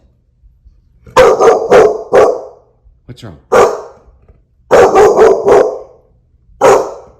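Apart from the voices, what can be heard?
dog barking aggressively at the door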